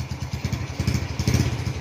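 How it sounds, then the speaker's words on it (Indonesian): A passing motorcycle engine chugs close by with a fast, uneven putter, loud and sustained throughout. "tunggu dulu karena ada suara motor"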